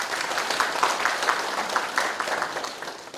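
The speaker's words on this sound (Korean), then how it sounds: "우리 또 같이 한번 박수 한번 보내주시면 고맙겠습니다" Audience applause at a practical farmers' education session in Icheon, a continuous, fairly even wash of many hands clapping for the whole stretch.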